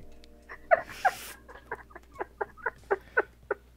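A person mimics a crow's caw with a voice, giving about ten short, rhythmic squawks in quick succession, fairly close and moderately loud, with a brief breathy burst near the start.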